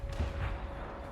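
Brief gunfire hits a Grenadier squad in Company of Heroes: a couple of quick, low, muffled shots in a distant battle, faint and short.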